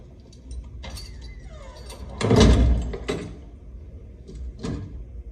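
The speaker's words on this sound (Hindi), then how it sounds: "जरा दरवाजा बंद करके जाना।" A door closing in a dramatic film scene, heard as one solid, fairly close thud midway with a few lighter knocks and rattles before and after, over a quiet room.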